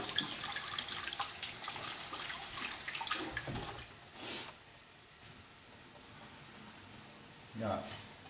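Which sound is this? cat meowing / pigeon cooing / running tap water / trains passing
running tap water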